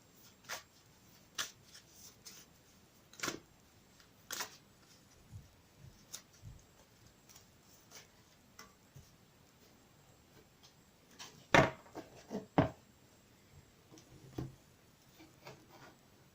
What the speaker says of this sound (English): just a quick shuffle.